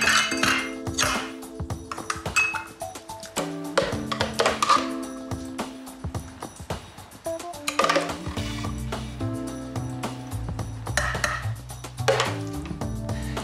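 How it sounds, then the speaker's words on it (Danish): Glasses filled with panna cotta are knocked down against a wooden cutting board, giving a series of sharp clinks and hard thunks in irregular bursts, close and clear. "Jeg banker lige glasene sådan lidt ned mod spækbrættet her, for at få dem jævnet lidt ud i overfladen."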